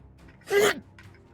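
A person sneezes once, a sharp burst with a brief intake, near and clear in a quiet room during a tabletop roleplaying game session.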